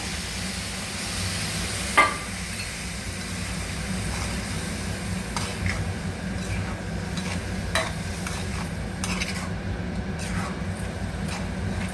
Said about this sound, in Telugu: అందులోనే పెరుగు పోసుకోవాలి పుల్లటి చల్ల